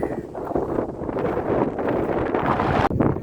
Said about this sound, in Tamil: இப்போ இங்கே வந்து கடுமையான காற்று